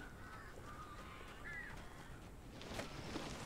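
Crows caw faintly at a distance in the horror game Alan Wake, a few brief rasping calls over a dim, hissing ambient background.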